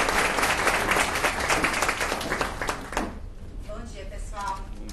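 An audience at a São Paulo Tech Week event in Espaço Platina breaks into dense, loud applause that fills the room for about three seconds before thinning out, with a voice starting to speak as the clapping fades.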